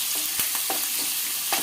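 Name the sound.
bitter gourd curry frying in a pan until brown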